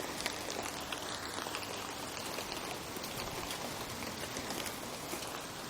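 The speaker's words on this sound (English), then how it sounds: "The rain's not looking good." Steady rain pours down outdoors as a storm with lightning moves in, a dense continuous hiss of drops spattering on surfaces with no gaps, close and even throughout.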